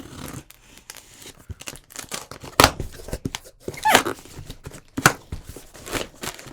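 Packing tape ripped off a green-taped cardboard box, several sharp tearing bursts in quick succession, close and fairly loud, with quieter crinkling and handling noises between them.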